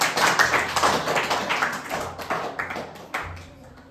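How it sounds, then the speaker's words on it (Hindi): Loud clapping from a group in a Class 8 science lesson, a steady run of sharp claps filling several seconds, close and continuous. "जोरदार ताली"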